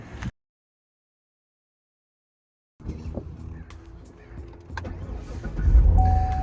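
A Chevrolet Corvette sports car with a Targa top sets off: a short burst of sound, a silent gap, then interior rumble and clicks as the engine note rises and swells louder toward the end.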